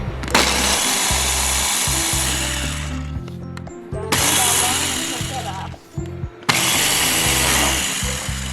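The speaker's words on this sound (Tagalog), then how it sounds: "So I'm just using my cutter or ninja cutter." A Ninja cutter food processor minces whole garlic in loud whirring bursts, three long runs separated by short pauses, its motor droning with rattling chopping underneath.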